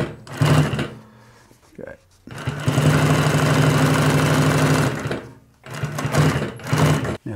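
Typical GC20606-1HL18 industrial high-lift compound feed walking foot sewing machine running close and loud, with short bursts, a pause, then a long steady run and more bursts through thick seams.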